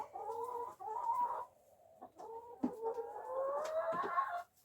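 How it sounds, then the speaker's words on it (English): Backyard chickens being fed lentils cluck and croon nearby in drawn-out, wavering calls, several overlapping with brief quiet gaps between. "Here's go my chickens here."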